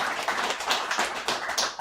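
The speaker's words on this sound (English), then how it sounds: "I appreciate the applause." Audience applause at a sobriety alumni meeting: a short burst of many hands clapping together, dense and steady, in a room.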